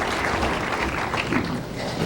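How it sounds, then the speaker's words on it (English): Feeble applause from a spectator at a 1995 national bowling championship, a steady patter of clapping mixed with crowd murmur throughout, moderately loud and continuous. "His wife, Mary, feebly applauding."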